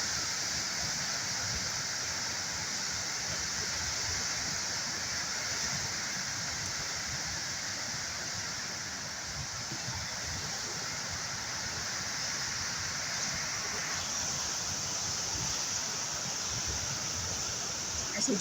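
The flooded Rio Grande River in Portland, Jamaica rushing at full speed, a loud, unbroken roar of swift water that holds steady throughout, heard alone without talk.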